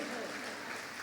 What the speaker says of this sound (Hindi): ताली बजा दीजिए फिर।